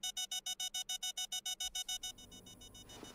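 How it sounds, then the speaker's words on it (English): A built-in alarm clock rings in a fast run of about fourteen sharp, evenly spaced electronic beeps that then stop, leaving a soft rumble. "They have built-in alarm clocks."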